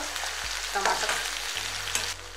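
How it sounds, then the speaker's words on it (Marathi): Tomatoes fry with softened onion in a hot pan for a Hadga flower vegetable dish, a steady close sizzle with brief stirring scrapes and clatter, and no voices over it. "आता टमाटर टाकूया याच्यात। ते पण चांगलं व्यवस्थित भाजून घ्यायचं, जरा मऊ होईपर्यंत।"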